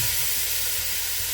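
Sheep tail pieces fry in their own fat in a pan without oil or butter, giving a loud steady close sizzle with faint stirring bumps.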